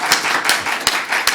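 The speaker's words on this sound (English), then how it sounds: "Thank you, for the cheering." Conference audience at an energy-security session on the Adriatic and Ionian region clapping in a brief, fairly loud burst of applause with distinct individual claps.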